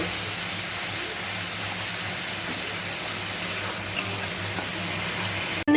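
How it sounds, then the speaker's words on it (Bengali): Spice paste sizzling in hot oil in a pan after the pointed gourd has been lifted out, a steady hiss of frying that runs alone and fairly loud throughout, with a brief clunk at the very end. "এই তেলের মধ্যে আমার আগে থেকে বানিয়ে রাখা মশলার পেস্টটাকে দিয়ে দিলাম দিয়ে ভালো করে কষিয়ে নেব"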